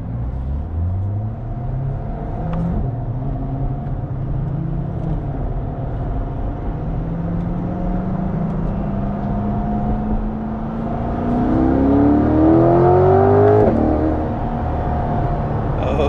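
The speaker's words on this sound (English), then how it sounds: "See if we can rev at this guy a little bit." A 2022 Corvette C8-R Edition engine hums steadily from inside the car and then climbs in a rising rev near the end, a loud, continuous drone with a surge of pitch and volume.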